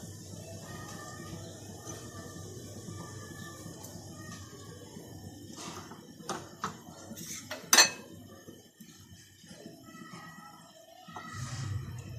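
Gulab jamun being put into sugar syrup, heard as scattered metallic clinks and taps of a spoon against a pot over a low background hum, with one sharper clank midway.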